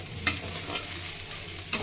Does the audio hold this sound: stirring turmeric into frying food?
yes